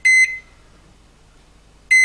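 Microwave oven timer beeping as its dial is turned, two loud, clean electronic beeps separated by a short quiet gap.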